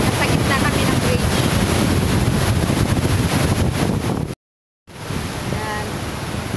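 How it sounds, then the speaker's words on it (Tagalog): Strong rushing water pours through a dam beneath a bridge, a loud continuous roar mixed with heavy wind buffeting the microphone, briefly cutting out before resuming. "Grabe ang bugso ng tubig, guys, oh."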